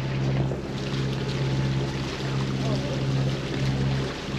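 A sailboat motoring at sea on one engine at about 2,000 RPM through the fast Gulf Stream current in dead calm, giving a steady, loud low engine drone with a faint wash of water and wind.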